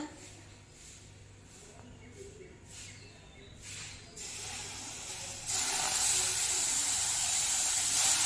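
A quarter cup of sugar caramelizes in a hot pan for caramel pudding. It gives a steady sizzling hiss that grows louder and brighter partway through and holds near and strong to the end.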